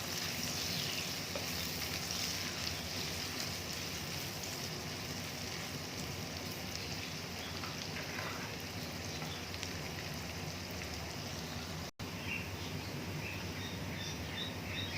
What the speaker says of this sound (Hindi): यहाँ कढ़ाई में मैंने आधा कप घी लिया है। इसमें हम ये प्याज डाल देंगे। और प्याज को लाइट ब्राउन होने तक हम पकाएंगे।